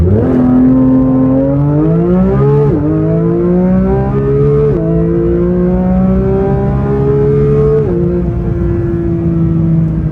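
A 2023 Porsche GT3 engine screams loud and close under hard acceleration, pitch climbing steadily through several gears with a brief dip at each upshift, alone without voices.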